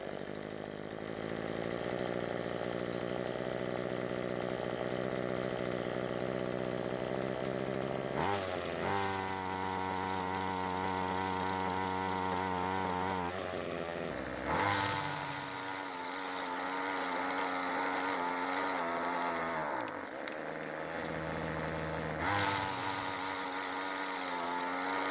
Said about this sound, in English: Well, the engine starts and idles fine, but at full throttle the engine is struggling